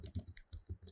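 Quiet keystrokes on a computer keyboard tap out a short command in a quick run of about half a dozen close, crisp clicks, heard alone without speech.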